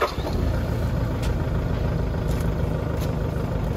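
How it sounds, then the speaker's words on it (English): A Toyota Land Cruiser Prado J90 with the 1KD diesel engine idles close by after injector seat repair, a steady low rumble with an even, unbroken clatter and no voices. "I will crank up the engine right now just so you guys listen up."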